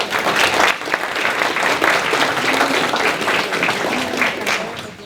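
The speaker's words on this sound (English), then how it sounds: "let's give a round of applause for this group" Audience applause rings out after a call to honor a group at a candidates' event, steady dense clapping holding for several seconds with faint voices mixed underneath.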